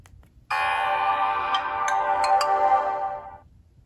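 A 2010 Sony Ericsson Spiro W100i mobile phone plays its startup sound: a single sustained, shimmering electronic chord lasting about three seconds, close and clear, with a few light ticks and no voices.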